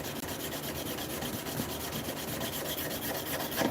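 Rhythmic rubbing strokes of 400 grit sandpaper working down the metal of a Buck Bros hand plane, a fast even scratching close up, with no voices.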